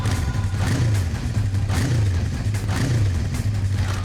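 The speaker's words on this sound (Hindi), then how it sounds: "हम तुम्हें कुछ बाइक्स की आवाजें सुनाएंगे" A motorcycle engine played back as a recording, its low throbbing exhaust note revving up and down in repeated surges at close range with no other sounds around it.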